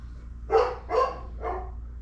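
Three short, close barks or yelps in quick succession from a dog in a crate, fairly loud, with no talking around them.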